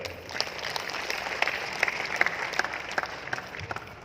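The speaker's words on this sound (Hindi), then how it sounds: "30 जोरदार तालियां" Enthusiastic applause from a crowd at an RCM gathering in Bhilwara, dense steady clapping with a few sharper claps popping out, sustained for several seconds.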